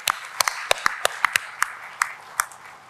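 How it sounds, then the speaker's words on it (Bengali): An audience at the Bangla Academy book fair gives scattered, sparse claps, about a dozen distinct sharp hand claps at uneven intervals rather than full applause, over a faint hum. "তাদের উদ্দেশ্যে আমরা একটা হাততালি দিই"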